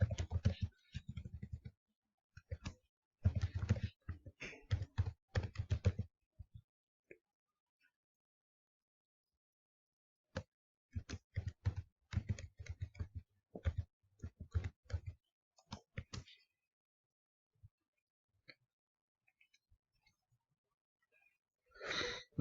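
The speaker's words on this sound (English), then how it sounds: "So type in your login details." Login details are tapped out on a computer keyboard in irregular clusters of crisp, close key clicks, with long silent pauses between bursts.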